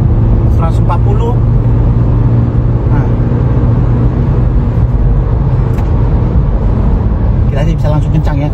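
Toyota Fortuner 2.8 GR Sport with the 1GD diesel engine, 2022 model, accelerating hard at highway speed; a loud, steady engine and road drone fills the cabin throughout, with people talking over it.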